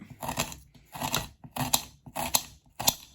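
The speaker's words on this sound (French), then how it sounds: "je vais finir de couper mes oignons de cette façon" Knife slicing onions into thin rings on a cutting board, heard as five evenly spaced, close crunchy cuts, each a short crisp burst with quiet gaps between.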